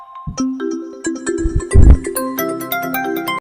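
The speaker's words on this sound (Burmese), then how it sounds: "ရဖုန်းလာဟာ" A mobile phone ringtone for an incoming call plays as a bright, repeating electronic melody of stacked tones, loud and close for about three seconds, with a brief burst of low rumble partway through.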